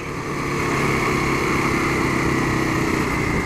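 Kawasaki KLX250SF dual-sport motorcycle engine running steadily and loud throughout, a constant buzzing drone with no pauses, no speech.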